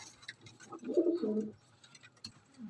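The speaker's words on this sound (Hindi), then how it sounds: "ये दोस्तों ये कबूतर है जी।" Pigeons cooing nearby, a soft low throaty coo rising in the middle of the stretch against faint background noise and a few chirps, with no speech.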